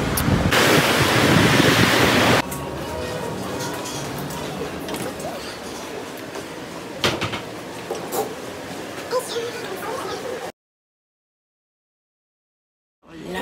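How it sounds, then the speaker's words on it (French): Gusty outdoor wind in France blows hard against the microphone, roaring loudly at first, then easing into a steadier rush with occasional buffets before cutting to silence near the end. "il y a toujours du vent"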